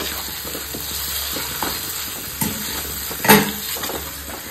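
Marinated chicken with a little turmeric sizzles steadily in a hot pan, with a constant frying hiss and occasional stirring scrapes and clinks of a spatula against the metal, one louder knock near the end.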